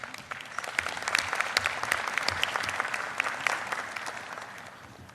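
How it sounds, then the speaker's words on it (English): An audience of delegates at an international conference applauds, a dense sustained burst of clapping that swells quickly and then gradually fades, with no talk over it. "Please, on that note, join me in applauding Azerbaijan's leadership."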